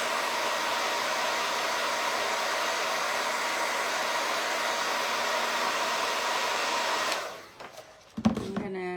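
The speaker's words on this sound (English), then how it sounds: "Oh, there goes the dryer." A hair dryer blows on a chalk design on a pillow, a steady, loud close-up roar for about seven seconds before it cuts off, followed by a few faint handling sounds.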